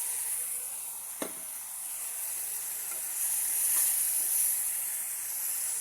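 Spice mixture sizzling in a hot pan while being stirred, a steady loud frying hiss throughout with a sharp scrape of the spoon early on and a few softer clinks.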